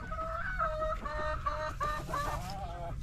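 Egg-laying hens in a backyard coop cluck repeatedly in short, rising, nasal calls, overlapping throughout at moderate distance, with no speech.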